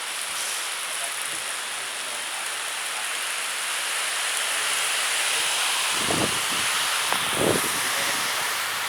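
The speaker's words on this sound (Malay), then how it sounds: "udah ada hujan" Constant heavy rain hisses in a broad wash of noise, with a few low gusty thumps near the end.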